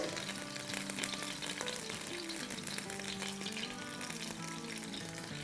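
Oil sizzling hot in a pan, a close steady crackle with light stirring sounds and a melodic backing tune running underneath.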